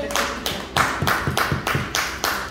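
An audience at a business forum claps in slow, loud, evenly spaced bursts of about seven claps, close and distinct with no talk.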